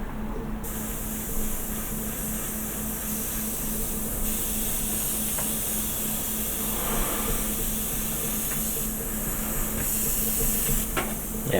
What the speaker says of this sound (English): Let's give it a spray and see how it goes.